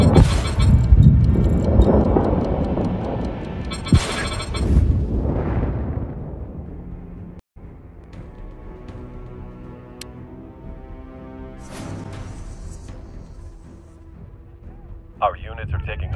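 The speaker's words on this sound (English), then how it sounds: "Be advised, our artillery is commencing fire." Artillery fire in the video game World War 3, a few heavy booms and blasts early on, then quieter ticking and distant impacts under radio-style voice announcements.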